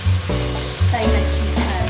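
Chicken liver frying in a hot pan for pancit bihon crackles and sizzles steadily close up, with a brief stirring shuffle, over a faint tonal background.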